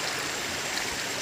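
Abungan Falls in Dingalan, Aurora, a steady dense rush of flowing water filling the whole moment, close and continuous with no voices.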